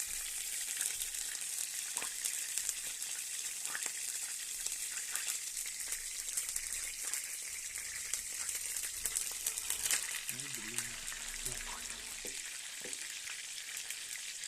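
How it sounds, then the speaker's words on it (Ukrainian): Shawarma halves sizzle steadily in a frying pan at a frontline position near Pokrovsk, with a continuous close hiss and occasional scraping or stirring clicks and no voices. "Йдемо різати і жарити."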